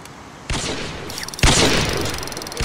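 Gunfire in Minecraft, with two loud, sharp blasts about a second apart, each trailing into a noisy decay over a steady game backdrop.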